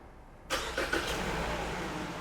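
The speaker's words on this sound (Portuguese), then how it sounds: "eu vou solicitar agora para ela dar a partida no motor do veículo" A car engine cranks and catches after a quiet start, with a few quick sputters before settling into a steady, close idle.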